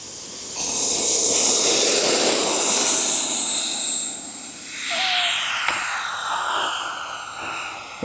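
An E-flite 80mm F-16 electric ducted-fan RC jet taking off down a runway, a loud rising high-pitched whine that peaks early, then fades and shifts as it climbs away, with no talking.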